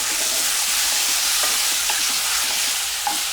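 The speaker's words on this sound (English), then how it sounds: "Give a little stir." Chopped skinless, boneless chicken thigh fillet sizzles steadily in a pan while being stirred, a loud, continuous frying hiss close up with faint scraping of the stir.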